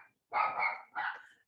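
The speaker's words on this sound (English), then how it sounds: "A few doggy issues here with barking." A dog barks twice, close and fairly loud, two sharp barks in quick succession indoors during a yoga class.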